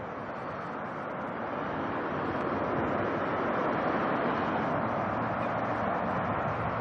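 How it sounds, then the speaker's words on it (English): Boeing 747 cargo jet engines spooling up at Auckland Airport, a steady broadband roar that swells slightly and holds, heard from a distance with wind noise and no voices. "Sounds like some spool up going on."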